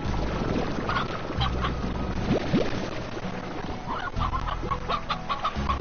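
Chickens cluck in short bursts in the Slime Rancher game, layered over game sounds and ambience at moderate loudness.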